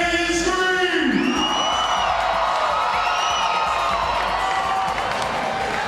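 A fight night arena crowd screams, whoops and cheers in a loud sustained roar, with rising shouts and yells layered over the continuous din.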